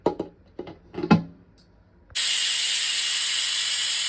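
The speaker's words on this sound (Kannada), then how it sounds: "ಕುಕ್ಕರ್ಗೆ ಹಾಕಿ ಮುಚ್ಚಿ 2 ಕೂಗಿಸಿದ್ರೆ ತೊಗರಿಕಾಯಿ ಹುಳಿ ಸಾಂಬಾರು ರೆಡಿ ಆಗುತ್ತೆ" A pressure cooker holding a toor dal and hyacinth bean sambar hisses out steam in a sudden loud, steady jet after a few quiet kitchen clinks, sustained and close until the end.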